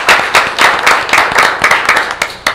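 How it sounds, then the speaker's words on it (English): An audience at a township council meeting claps in a steady, loud round of applause, with hands beating in quick, overlapping, close bursts for the whole span. "if you'll all join me in giving her a round of applause"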